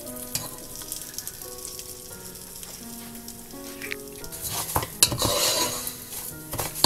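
Red rice frying in a pan and being stirred now and then, with steady sizzling and scraping, utensil clinks against the pan, and a louder burst of stirring near the end.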